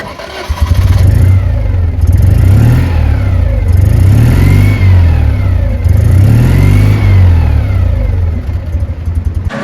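A classic Citroen Acadiane van's loud engine revs repeatedly in rising and falling surges, heard up close from behind with a throaty, rumbling exhaust and no talking.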